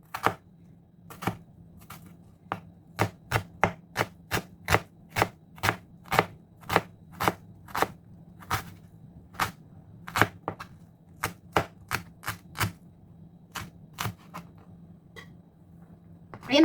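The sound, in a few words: mincing onion with a knife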